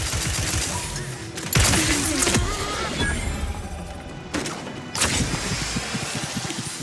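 Gunfire in The Outer Worlds 2 video game: sharp loud bursts of shots and impacts, with two heavy blasts about two seconds apart, over a steady game soundscape and music.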